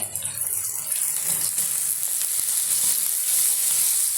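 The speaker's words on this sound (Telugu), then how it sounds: "ఈ మాత్రం ఇట్లా వేగిపోవాలండి ఉల్లిపాయ ముక్కలు" Onion pieces fry in a pan with a bright, hissing sizzle that holds steady and close, with a few faint stirring taps and no talking.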